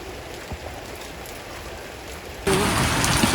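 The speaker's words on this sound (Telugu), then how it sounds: "ఒకసారి వర్షం ఎలా అవుతుంది చూడండి ఒకసారి." Heavy rain pours on the Kedarnath mountain trek as a dense, steady hiss that swells noticeably louder partway through, with no voices.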